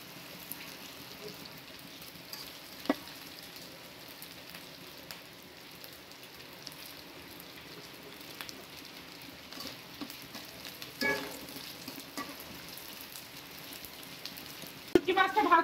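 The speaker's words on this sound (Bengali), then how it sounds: "দিয়ে শুটকি মাছটা লাল লাল করে ভেজে নিব" Dried fish with turmeric frying in a pan, giving a steady low sizzle throughout with occasional scrapes and clinks of stirring, heaviest near the end.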